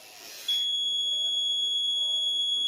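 A steady, continuous high-pitched electronic buzzer tone from a Raspberry Pi vehicle accident detection system with a MEMS sensor starts abruptly after a brief rush of noise and holds unbroken to the end.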